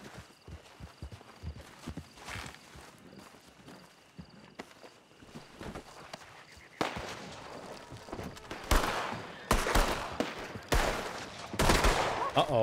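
Gunfire from a western roleplay video game shootout, with a string of sharp, loud shots and bursts clustered in the second half over scattered clopping and thuds.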